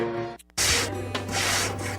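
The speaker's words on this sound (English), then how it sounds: "This isn't just the sound of a legendary Brunswick pool table." Balls rolling across a Brunswick pool table, a steady rumbling roll that starts after a brief near-silent gap and continues with a low hum and gentle clicks.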